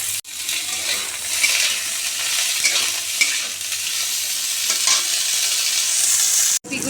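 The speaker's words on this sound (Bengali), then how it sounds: "ফুলকপিগুলো একটু ভেজে তুলে নেব" Cauliflower pieces fry in oil in a wok with a steady, bright sizzling hiss, punctuated by soft stirring scrapes and a sharp clack near the start and end.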